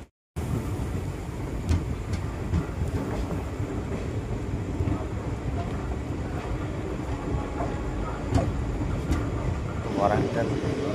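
Inside a Secunderabad SF Express (12746) coach at Mahabubabad platform 2 as it departs, a steady low rumble of rolling wheels fills the car, with occasional clanks and brief voices.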